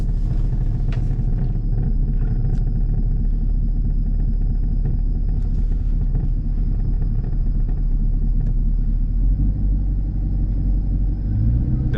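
A Jeep SRT8 rumbles on the road, its engine drone deep and constant throughout, swelling slightly near the end.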